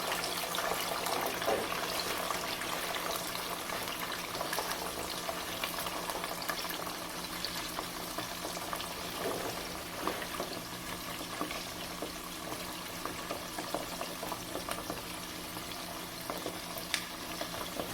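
Green beans deep frying in hot oil give a steady, dense sizzle and crackle that holds evenly throughout, close by and alone.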